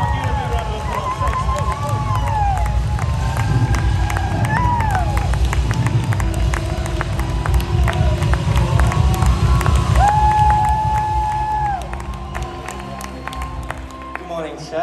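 A church youth service crowd claps and cheers to welcome a Year 9 student, loud and sustained with shouts and whoops over rumbling movement, easing off near the end.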